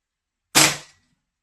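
A single sharp crack from a Feinwerkbau 300S vintage German match air gun firing a pellet, close and loud with a quick decay, surrounded by silence.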